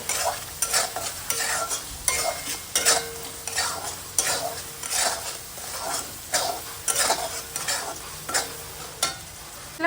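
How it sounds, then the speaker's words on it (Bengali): Spice masala of salt, garam masala and chili powder being stirred and sautéed in a pan for a soya chunk curry, with steady sizzling and rhythmic scraping strokes of a spoon, close and alone with no talk. "এবার আবারও ভালোভাবে কষিয়ে নেব।"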